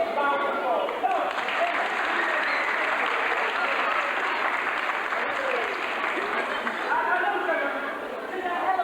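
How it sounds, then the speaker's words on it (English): Audience applause from a large crowd at a show, steady dense clapping with murmured chatter underneath, sustained for several seconds and easing slightly near the end. "give you a big round of applause"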